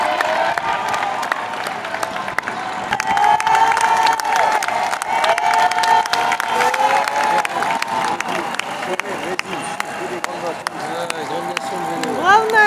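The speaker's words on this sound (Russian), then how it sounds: "люди опять хлопают" Roadside spectators applaud and cheer steadily as riders pass during the Olympic men's cycling road race through Paris, a continuous crowd wash with people talking nearby.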